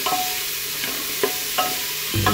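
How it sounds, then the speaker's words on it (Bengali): A spoon stirs tomatoes, potatoes and carrots into mutton stew in a sizzling pan, with several distinct scraping strokes over a continuous frying hiss and no voices. "এটা দিয়ে ভালো করে আবার নেড়ে চেড়ে নেব"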